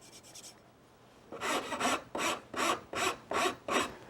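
A flat rasp strokes across a flat workpiece in six steady, even rasping passes after a few quicker light scrapes, close and clear with no talking.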